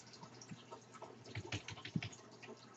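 Someone types on a computer keyboard while setting up a Minecraft multiplayer server. Quiet, irregular key clicks come in small clusters, faint and close, with no talking.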